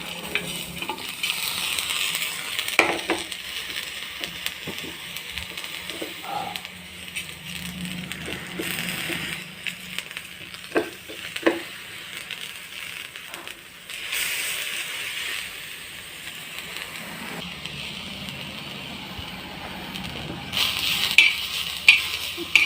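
Washed dry spices roast on a hot tawa, stirred now and then with soft scraping strokes and a faint, steady sizzle, quiet and close, with no talk.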